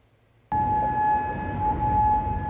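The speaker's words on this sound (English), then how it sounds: "Sirens blare across Kuwait City early Sunday" An air raid siren blares across Kuwait City, bursting in abruptly and holding a loud, steady wailing tone with distant rumbling underneath, no voices.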